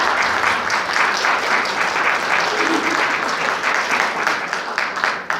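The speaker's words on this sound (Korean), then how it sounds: "이태호 교수님을 박수로 맞이하겠습니다." An audience welcoming a professor onto the stage with sustained, even applause, a dense steady roar of many hands filling the room throughout.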